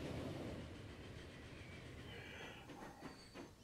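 A train runs along track in the Transport Fever 2 railway game, a steady low rumble with faint rhythmic clicks and a brief high squeal, continuous and moderately quiet.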